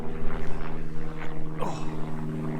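A light aircraft passes low overhead above hiking country in the Mendips. A steady propeller-engine drone is heard, with a pitch that shifts as the plane goes over, and moderate outdoor background noise.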